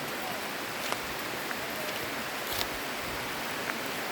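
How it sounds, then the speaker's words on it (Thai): Steady rain falls on an island near a boat pier, an even hiss of drops with a few faint tapping hits, quiet and unbroken throughout. "ฝนตกนะคะ เราก็เลยเดิน รอบเกาะไม่ได้นะคะ"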